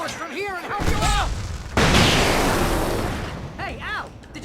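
Fireworks in the Alan Wake video game burst with a heavy, booming blast that rolls into a long crackling tail, set among short whistling sounds before and after, fairly loud against the game's backdrop.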